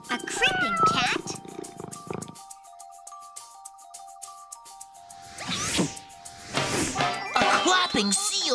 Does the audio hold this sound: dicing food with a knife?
no